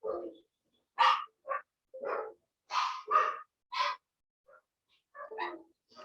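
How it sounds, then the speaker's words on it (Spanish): Several dogs barking in a noisy scuffle, heard as separate loud bursts in an irregular rhythm over about six seconds, fairly close, with no talk over them. "¿Escucharon la pelotera de perros?"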